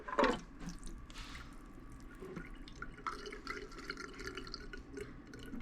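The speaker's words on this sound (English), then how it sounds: "So we pull this little plug out and just dump all the water." Water is poured out of the small tank of a SEAVON electric mini dehumidifier into a sink. It starts with a brief splashy gush, then trails off into soft dripping and trickling close by.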